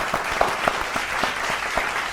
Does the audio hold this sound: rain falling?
no